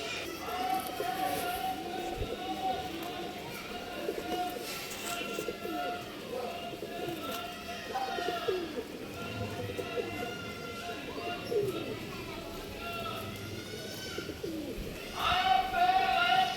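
Pigeons readied for a racing tournament coo repeatedly at close range in soft, rolling calls, with voices and other background activity murmuring underneath.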